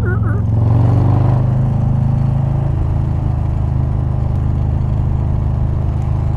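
A Harley motorcycle rides through canyon roads, a loud, low engine rumble held steady at cruising speed, with a brief rise in pitch near the start.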